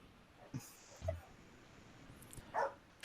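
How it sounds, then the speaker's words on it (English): A husky barks a few times at a distance, short soft yelps scattered through quiet room tone, faint and in the background. "I'm listening to my husky barking in the background right now"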